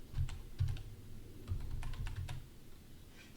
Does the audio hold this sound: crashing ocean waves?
no